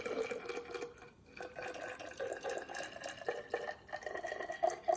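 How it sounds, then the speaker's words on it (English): Homemade rice wine poured into a hydrometer tube, a bubbly trickling and splashing fill that rises and falls over several seconds, close and moderately loud. "Pour this one into the hydrometer tube"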